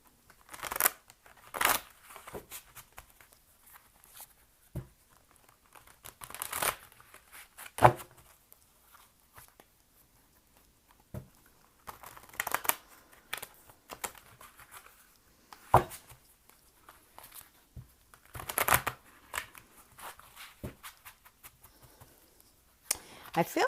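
Tarot cards shuffled and pulled during a reading, heard as sporadic soft papery slaps and riffles spread across the clip, some louder flicks, with quiet gaps between and no talking.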